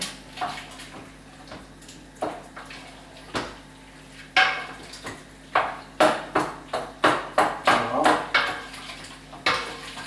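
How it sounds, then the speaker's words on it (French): Crushed tomatoes for a mussel dish are stirred in a bowl, a run of close, repeated clinks and scrapes of a utensil against the dish that quickens and grows busier midway. "J'ai écrasé les tomates. Je mélange."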